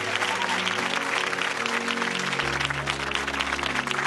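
A church congregation claps steadily during a televised praise service, the dense clapping mixed with sustained music tones and faint voices.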